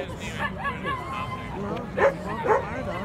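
A dog yips and barks a few times over a murmur of crowd chatter and nearby voices at a White Sox baseball game.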